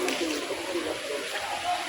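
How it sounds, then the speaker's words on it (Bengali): Steady rain hisses and patters on a rooftop without a break, a dense wash of falling water heard close up. "অনেক বৃষ্টি হইতেছে"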